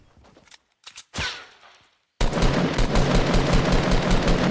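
Gunfire in Fortnite Battle Royale: a few scattered shots first, then after a brief silence a loud, sustained burst of rapid automatic fire runs to the end, with no talk.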